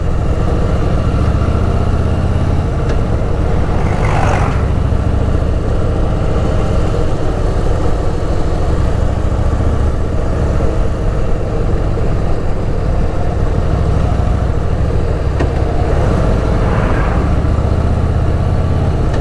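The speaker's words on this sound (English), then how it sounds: "Basically trying to do as much engine braking as possible." A motorcycle engine braking on a twisty road through the Western Ghats gives a loud, continuous engine drone with heavy wind rush. The engine note rises and falls slightly through the bends.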